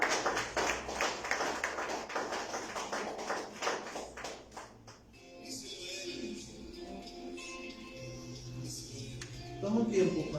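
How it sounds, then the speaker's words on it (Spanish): Clapping from a church congregation applauding the Lord at a Thursday general service: a loud, dense burst for about five seconds, then a voice speaks while the applause fades. "Dale un fuerte aplauso al Señor"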